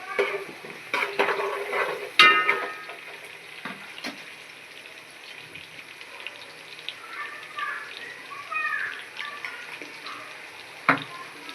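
Asafoetida and turmeric sizzle in hot oil while jackfruit vegetable is cooked village-style, a soft steady crackle with occasional clinks of a spoon against the pan, no talking.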